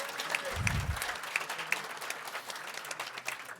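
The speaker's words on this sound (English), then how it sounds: "Let's give her a great round of applause." An audience at a congressional breakfast claps for Congress Member Grace Meng, a soft, even spread of applause from a moderate distance, with a brief low thump near the start.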